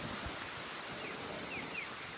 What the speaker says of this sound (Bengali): বাতাসের শব্দটা মনে হয় আপনারা শুনতে পাচ্ছেন সবাই।